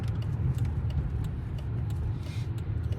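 Steady low engine rumble and road noise from a 2008 Dodge Charger SRT8 cruising, heard from inside the cabin as a continuous, even drone with no talking.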